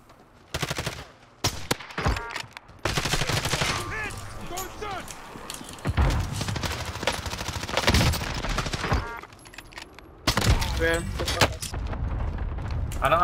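Rapid gunfire in a PC shooter game, with repeated sharp shots and bursts scattered throughout, heard under excited talking by players.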